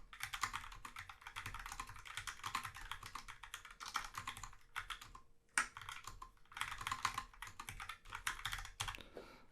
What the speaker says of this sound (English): It's going to take me some time to nail this new keyboard.